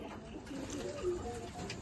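Pigeon cooing at a household pigeon loft, soft low murmuring coos close by over a steady background hum.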